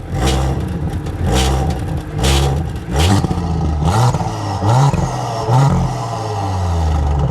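A Stage 2 Audi S4 with a loud, abnormal noise drives past and away, its engine roaring and revving through repeated gear pulls with a clattering, harsh edge, loud and close, with no talk.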